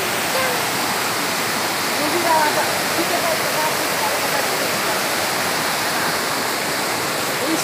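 A waterfall along a trail roars in a steady, full rush close by, with voices speaking faintly over the constant water noise.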